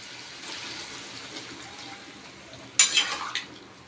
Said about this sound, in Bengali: জল অ্যাড করবো